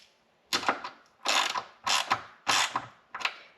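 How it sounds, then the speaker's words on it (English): A ratchet with a 13mm socket snugs down bolts on a Jeep Wrangler JL during a tire carrier install, heard as five separate bursts of quick, close clicking with short pauses between them. "we're going to do this with a 13mm socket"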